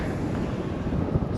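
Strong wind blows by a lake, a steady dense roar buffeting the microphone throughout, close and loud with no breaks.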